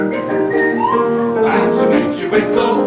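A whistled melody from a 1940s popular song carries a bright, wavering tune over a full instrumental backing, steady and close throughout.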